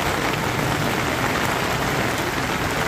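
Heavy torrential monsoon rain pours down in Lucknow as a dense, steady, loud hiss of water hitting surfaces, unbroken throughout and with no voices.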